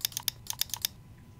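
Keys on a computer keyboard click in a quick run of about eight crisp, close taps while working in SketchUp, then the typing stops and quiet follows.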